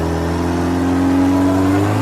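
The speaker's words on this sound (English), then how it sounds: "you want your engine to rev pretty high" A motorcycle engine held at high revs while riding through flood water on a wet road, a loud, steady droning whine close to the microphone with no talk.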